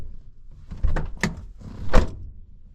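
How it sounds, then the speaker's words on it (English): An old Holden ute has its doors shut hard in a quick series of solid, metallic thunks and slams, with rattling in between, heard up close with no talk. "It's an old ute, you have to slam the doors"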